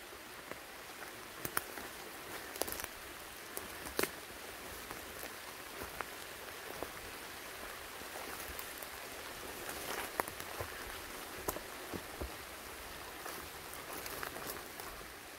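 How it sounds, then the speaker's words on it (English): Steady rain falling on surfaces nearby, a soft continuous patter with occasional louder drops, and no voices. "Here comes the rain."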